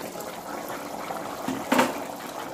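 Water is poured into a cooking pan while making Telugu-style egg pulusu, an egg curry. A steady, moderately quiet hiss runs throughout, with a brief, louder splash-like burst near the end.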